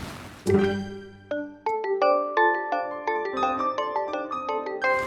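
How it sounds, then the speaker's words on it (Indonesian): A mobile phone rings with a melodic ringtone, bright chiming notes repeating in a quick, steady pattern. "Hei, handphone siapa tuh bunyi matiin?"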